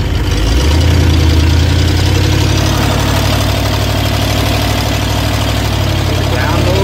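A Ford E150 van engine running with its engine cover removed, a loud, close, steady low rumble and drone that holds throughout with no break.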